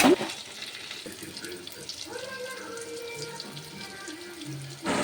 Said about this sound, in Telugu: ఇప్పుడు ఇందులోకి వాటర్ వేసుకుందాం.